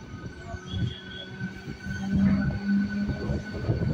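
A MEMU express train runs on rails on the route linking Karnataka to Tamil Nadu. It gives a continuous rumbling clatter with intermittent wheel squeals and a steady mechanical hum, close and fairly loud throughout.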